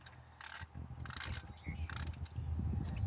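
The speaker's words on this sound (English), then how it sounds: "now I'm just gonna get to tightening them" A ratchet wrench clicks in short bursts while bolts are tightened on a Dana 60 front differential cover, the quiet mechanical clatter close by and separated by pauses.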